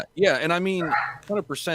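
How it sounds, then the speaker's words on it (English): Dogs bark and yip in the background, partly masked by someone talking continuously over them at close range. "sorry for the dogs"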